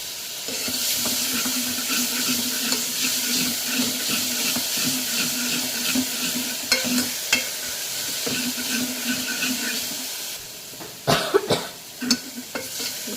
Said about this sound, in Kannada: ಟೊಮೊಟೊ ಆಲ್ಮೋಸ್ಟ್ ಫ್ರೈ ಆಗಿದೆ